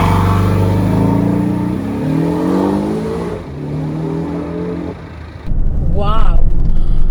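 A Porsche 718 Boxster accelerating hard, engine revving up through rising tones with gear changes, loud and close, ending in a burst of exhaust noise; a voice talks over parts of it.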